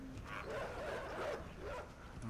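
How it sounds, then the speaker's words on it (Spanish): Dogs barking and whimpering in the video game Inside, a few yips and barks heard over a steady rumbling game background. "Se ven los perros."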